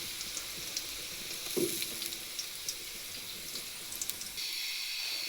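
Garlic frying in oil in a pan for cooking greens, a steady soft sizzle with a brief clink of a utensil partway through, close and fairly quiet.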